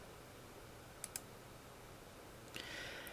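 Computer mouse clicking on an install button, two quick faint clicks over a steady background hiss, then another small pair of clicks.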